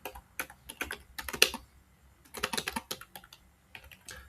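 Fingers typing a single line of code on a computer keyboard, clustered bursts of crisp key clicks with short pauses between, close and clear, no voices.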